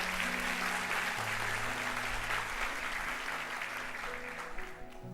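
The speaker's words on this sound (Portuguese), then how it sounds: "Dê o melhor aplauso que você pode dar ao Senhor" A church congregation applauds during a morning worship service, with dense, steady clapping that holds loud throughout and sustained musical tones, likely keyboard or organ, underneath.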